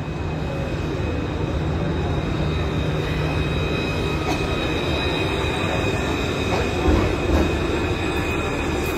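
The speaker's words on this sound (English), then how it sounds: "when the tram goes past, we can unbunch" A tram rumbling past on a Melbourne street during a march, a steady loud rolling drone with faint wheel squeal and a slight swell near the end.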